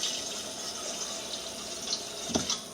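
Tap water runs steadily into a container, giving a constant hiss with a few gurgling splashes near the end, played alone without talk.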